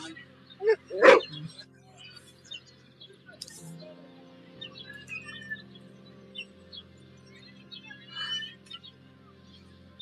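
A dog barks in a video played back during a presentation. One sharp, close bark comes early, followed by faint scattered sounds and a soft background hum.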